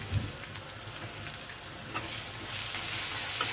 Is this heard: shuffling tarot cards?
no